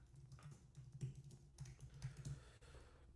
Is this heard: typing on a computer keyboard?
yes